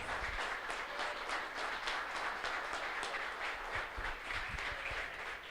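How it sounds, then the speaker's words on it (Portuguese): Congregation clapping during a church worship service, a steady, dense wash of many hands with some rhythmic pulsing, fairly distant and reverberant, with low rumbles underneath and no one speaking. "mais palmas para Jesus"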